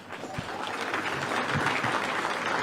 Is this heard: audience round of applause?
yes